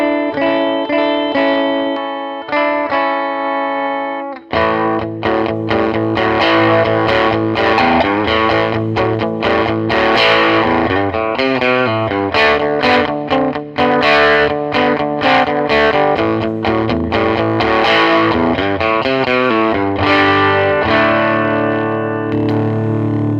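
Brand-new Lounge Series electric guitar in the middle pickup position with the volume backed off, played alone as a steady run of overdriven chords and ringing notes with a touch of reverb, loud and continuous.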